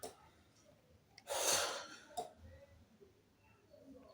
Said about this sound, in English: What's with the heavy breathing?